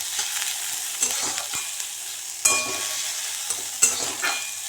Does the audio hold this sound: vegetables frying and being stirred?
yes